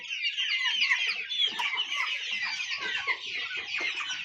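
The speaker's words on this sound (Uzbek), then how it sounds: "Bu yoqda ham jo'jalarimiz bor." Young chicks on a farm in Qashqadaryo, Uzbekistan, about two months old, keep up a dense, continuous chorus of high chirps and peeps, close and moderately loud.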